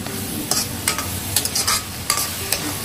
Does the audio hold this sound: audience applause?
no